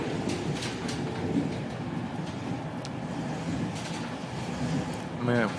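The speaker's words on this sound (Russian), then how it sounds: "И вот сегодня я еду на поезде" A passenger train rolls along with a steady, dense rumble filling the carriage, constant and close, with a brief rattling burst near the end.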